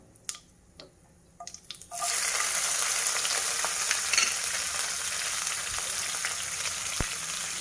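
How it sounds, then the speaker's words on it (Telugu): Urad dal, green chillies and garlic frying in a pan, starting with a few sharp taps and clinks, then a loud, continuous sizzle that carries on to the end with occasional stirring noises. "వేగిన తర్వాత చూడండి, పచ్చిమిరపకాయలు, తెల్లగడ్డలు వేయించాలి."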